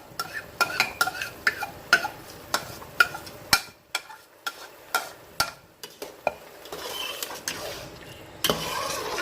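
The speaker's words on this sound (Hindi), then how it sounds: "अब हम इसमें ये जो चावल हैं ये इसमें शामिल कर देंगे" Rice is tipped into a pot of chicken pulao over medium heat and stirred in with a metal spoon, giving repeated scraping clinks against the pot and a soft sizzle underneath, with no one talking.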